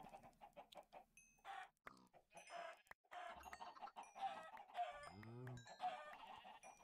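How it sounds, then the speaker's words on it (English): Chickens cluck and squawk in a Minecraft modpack, several overlapping bird calls alongside game sound effects, fairly faint and with no talk. "Honestly, I only need two chickens."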